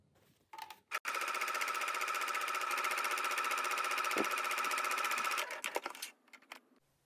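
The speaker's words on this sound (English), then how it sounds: "sewing basting stitches from one seam all the way around to the other seam with a 3/8 inch seam allowance" A sewing machine runs basting stitches around a skirt edge at a 3/8 inch seam allowance, whirring in one steady burst of about four and a half seconds, with brief clicks before and after.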